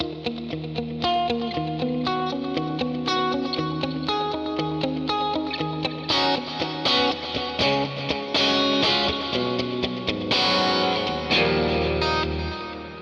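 Electric guitar notes through a Fractal Audio FM3 are played with a dotted-eighth delay, each repeat echoing in a syncopated pattern that builds into a dense, shimmering wash.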